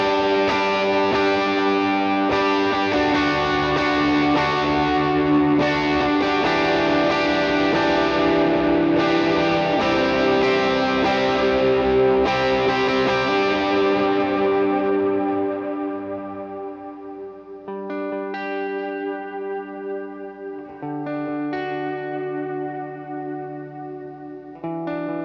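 Electric guitar chords of the kind used in a worship set, played through effects with chorus, echo and light distortion, lush sustained chords ringing and overlapping, then thinner picked notes near the end, close and continuous with no talk.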